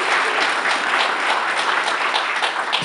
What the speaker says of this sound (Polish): brawa duże